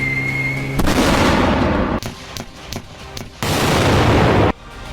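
Explosions from news footage of blasts between Quetta and Peshawar, Pakistan, come as loud, sharp bursts: one long roaring blast, a rapid string of cracks, then another sustained heavy blast, each cutting off abruptly.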